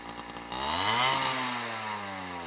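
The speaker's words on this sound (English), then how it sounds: "Here's an 81 moped motorcycle, revving long engine perspective" Small 1981 moped motorcycle engine revs up, its pitch climbing steeply before settling into a steady, loud, buzzing drone, heard close and alone.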